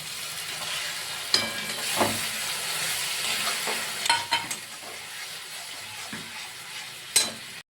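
Tomato water poured into a hot frying pan for a Bengali mung and poppy-seed dish hisses and sizzles steadily, with a few louder spitting bursts and stirring clatters, close up and without talk.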